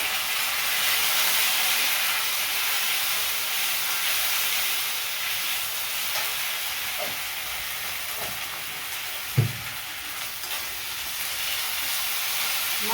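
Ginger, cumin and turmeric masala frying for a chana dal paratha, a steady broadband sizzle and hiss running throughout at moderate level, with a few soft clinks and one sharper knock near the end.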